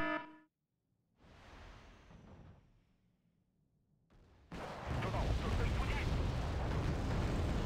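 Missile launches and explosions in the real-time strategy game Wargame: Red Dragon, a sharp tonal burst followed by rumbling blasts that swell into a loud, sustained roar of impacts.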